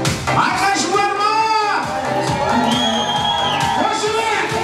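A crowd at a Kazakh wedding party game shouts and whoops loudly on cue, a sustained burst of mixed yells and cheering voices close by.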